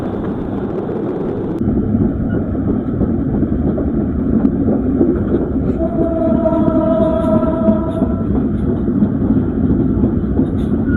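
A passenger train runs through Tilakpur railway station without stopping, a steady loud rumble of wheels and wind heard from on board, with a brief tonal whine in the middle.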